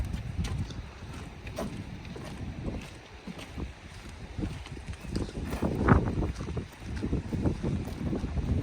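Gusting wind buffets a moored boat at Blake Island, Washington, with steady rushing noise, bumps and knocks against the hull, and a louder thump midway.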